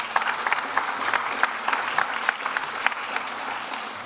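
An audience at a sustainable finance event applauds steadily, many hands clapping at an even level throughout with no break.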